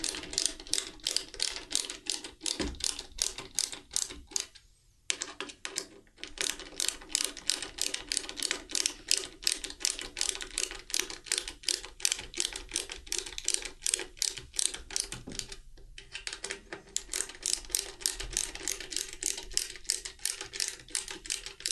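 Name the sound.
tightening fasteners on an iPad kiosk build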